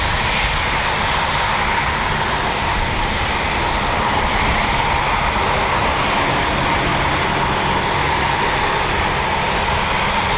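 Eurofighter Typhoon FGR4 jet engines at RAF Coningsby, a loud, steady, close roar that holds constant with no talk over it.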